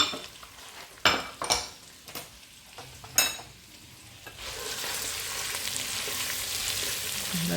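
Freshly chopped garlic goes into a seafood gumbo pot: sharp metal clinks and stirring scrapes come first, then a broad, even frying hiss settles in and holds, close and moderately loud.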